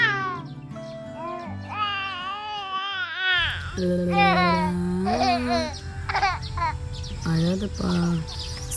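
A young boy cries in wailing, rising and falling bursts at close range, with adult voices speaking over and between the sobs.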